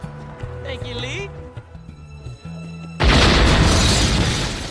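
A powerful bomb blast tears through a Hong Kong police station in the film Rush Hour 2, a sudden loud roaring burst that cuts in after a stretch of music and dialogue and sustains as a dense, crashing wash.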